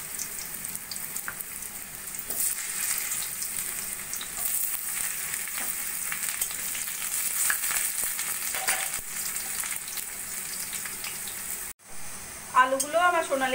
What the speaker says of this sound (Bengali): ওই তেলের মধ্যে এবার আমি আলুগুলোও ভেজে নেব।